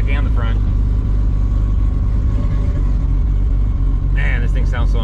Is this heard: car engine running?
yes